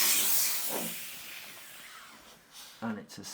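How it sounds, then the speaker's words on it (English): A steam cleaner blasts into awkward, tight spots with a loud, steady hiss that gradually thins out. A brief voice and a couple of short clatters follow near the end. "As you can see with the steamer, it gets in straight into those awkward areas."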